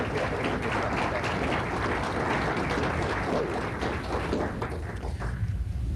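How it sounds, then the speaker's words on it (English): An audience claps for a volunteer named Dawn at a mentalism show, a dense, continuous patter of many hands that stays even before thinning slightly near the end. "how about a nice round of applause for Dawn?"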